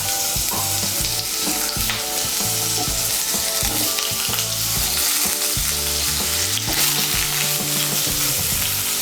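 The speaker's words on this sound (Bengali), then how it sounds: "এই তেলের মধ্যে আমি আলুগুলো ভেজে নেব।" Large cut potato pieces frying in hot oil in a Bengali kitchen, with a steady loud sizzle throughout and repeated low knocks from stirring, no talking.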